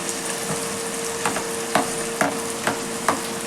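Green chillies fry in a hot pan for Guntur-style kichidi, a steady loud sizzle carrying a few sharp clinks and scrapes from stirring.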